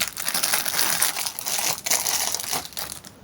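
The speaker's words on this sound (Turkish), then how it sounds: "Öncelikle Beyblade'in kendisini açalım." Plastic packaging crinkles and crackles continuously as a Beyblade Beat Lynx spinning top is unwrapped, close and fairly loud, with a few sharper tearing rustles.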